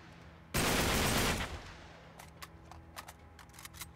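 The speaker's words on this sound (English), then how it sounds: "Is that somebody shooting me out there?" Gunfire in Uncharted 3: Drake's Deception: one dense, loud burst of shots for about a second, then quieter scattered distant pops and sharp reports.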